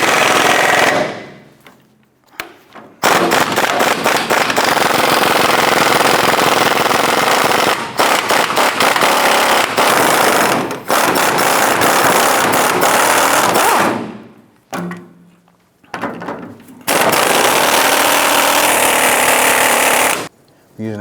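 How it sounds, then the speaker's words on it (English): A power ratchet or impact tool with a 13mm socket and swivel removes the four gas tank bracket bolts on a 1994-2004 Chevrolet S10, in loud sustained rattling bursts separated by short pauses, close up. "Using a 13mm socket and swivel, we're going to go ahead and remove the 4 bolts holding the gas tank bracket"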